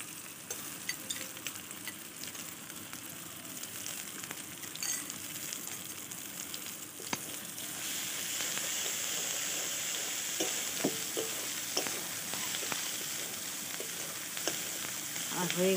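Black cumin paste and garlic fry in hot oil with a steady, soft sizzle and scattered crackles, close up and fairly quiet, growing slightly louder and busier partway through.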